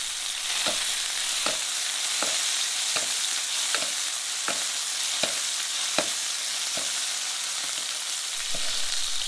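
A fillet of sole sizzles steadily in oil in a pan, with a crisp continuous frying hiss broken by regular soft taps and scrapes roughly every second as the thick part is pressed down.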